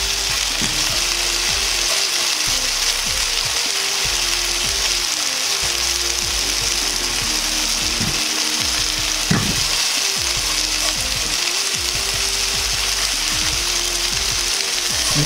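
Chicken pieces searing in a hot pan, a steady dense sizzle that holds at full strength throughout, close and loud, with no voices over it.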